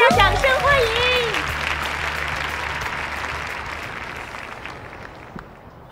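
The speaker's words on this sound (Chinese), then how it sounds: "有请 大家掌声欢迎" An audience greets the head of a flight attendant academy with applause, loud at first over a voice and music, then fading steadily over several seconds.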